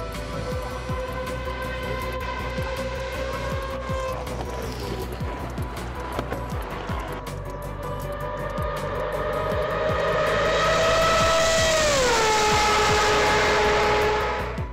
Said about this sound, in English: After Mazda won Le Mans, it made the rotary engine and the 787B very famous